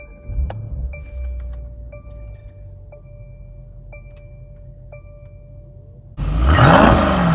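A 2019 Mercedes-AMG E63S Wagon starts up: after a quiet stretch with faint clicks and chimes, the engine abruptly fires into a loud, broadband roar that holds steady to the end.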